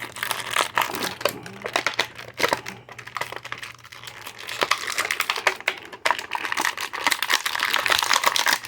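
Crinkling and tearing of plastic packaging as Masters of the Universe Origins action figures are pulled free, a dense run of close, sharp crackles and snaps in irregular bursts with no talking.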